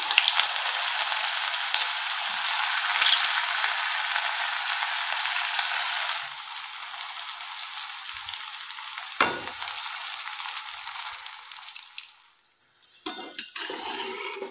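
Cabbage manchurian balls deep frying in oil over a medium gas flame, a steady dense sizzle that fills the first half, then thins to a quieter bubbling with a few sharp clinks and scrapes near the end.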